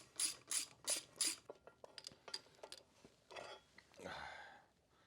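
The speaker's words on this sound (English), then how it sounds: "First, we're going to use a 5/16 Allen. We're going to lefty-loosey the big bolt out." An Allen wrench loosens a large bolt on a Harley-Davidson Sportster during neutral switch replacement, with four crisp ratcheting bursts followed by a series of quieter clicks and a final longer grinding turn, close and fairly faint.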